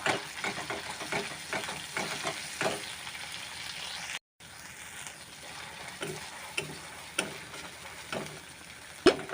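Ground mustard paste being stirred into prawns frying in a pan on a gas stove, giving a continuous sizzle with repeated scraping strokes of the spatula and a brief dropout partway through.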